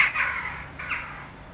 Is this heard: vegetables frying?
no